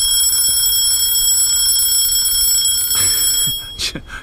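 A one-hour wind-up egg timer rings when done, a bright metallic bell that sounds steadily for about three seconds before cutting off, followed by a few soft knocks and handling noises.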